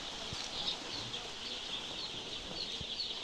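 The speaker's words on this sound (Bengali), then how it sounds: "এখানে প্রায় 3200 লেয়ার মুরগির বাচ্চা রয়েছে।" About 3200 two-day-old layer chicks chirp in a brooding shed on a farm, a dense, faint, continuous chorus of high peeping with no single bird standing out.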